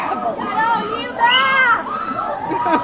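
Fans at a meetup shout and cheer together in a loud, echoing crowd of mostly young voices, swelling in the middle.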